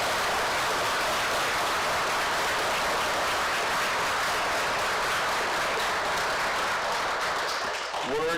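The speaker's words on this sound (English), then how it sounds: "Please give them a huge round of applause." A congregation applauds congratulated couples at a service, a dense, steady wash of clapping that holds evenly before briefly thinning near the end.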